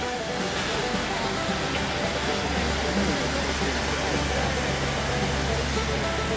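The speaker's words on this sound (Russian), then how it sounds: "Вот мы у подножья водопада." Waterfall at the foot of the falls in Oregon near the Columbia River in winter, a steady dense roar of falling water, loud and constant throughout, with voices faintly present underneath.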